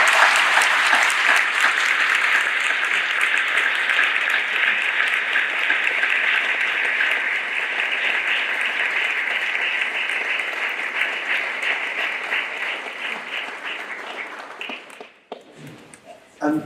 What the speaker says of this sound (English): let's give Margaret a big round of applause